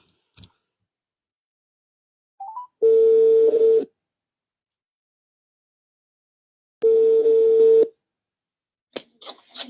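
A phone places a direct call with a few short dialing beeps, then two long steady dial tones about a second each, separated by silence, ending in brief clicking ticks.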